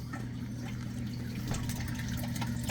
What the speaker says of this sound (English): and there's the water coming out.